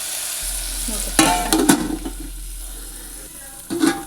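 Blood fry (Telangana nalla fry) with coriander powder is stirred in a pan, with a few loud scraping strokes over a steady low sizzle and hum.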